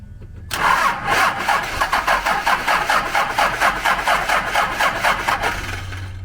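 A Ford truck with a swapped-in Cummins diesel engine cranks with a loud rhythmic churning pulse right up close, continuing steadily for several seconds without settling into a clear idle.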